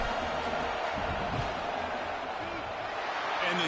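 A stadium crowd at a football game roars steadily and loudly during a field goal attempt, a dense wash of noise with no breaks.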